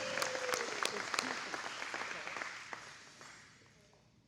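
Applause at a men's breakfast event for an alliance group: a crowd clapping steadily, fairly close and loud at first, then gradually thinning and fading out.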